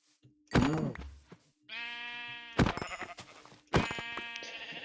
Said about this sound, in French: Ah, parfait, j'ai des moutons, je pourrais faire un lit bientôt.